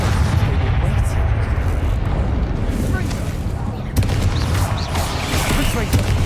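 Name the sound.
Bombarda spell explosions, from the video game Hogwarts Legacy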